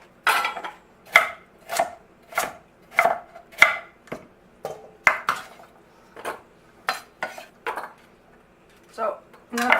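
Knife chopping carrots and potatoes on a board for a ground beef casserole, a steady series of sharp close cuts roughly every half second.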